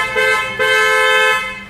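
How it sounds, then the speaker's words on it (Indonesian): A chrome Hella twin-tone car horn, fitted to a Honda Brio RS, honks twice, a short toot followed by a longer blast, loud and close. "Kita coba pemasangan klakson Hella yang chrome twin tone. Bunyinya seperti ini."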